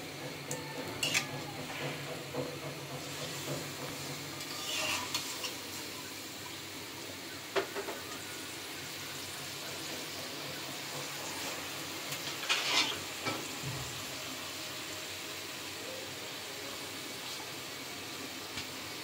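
Koi fish (climbing perch) lightly frying in hot oil in a pan, giving a steady, soft sizzle and hiss with a few brief louder crackles and spatters throughout, no talking.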